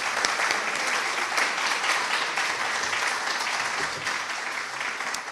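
Steady, dense applause from a lecture audience at a visiting artist event, sustained at an even level throughout with no talk over it.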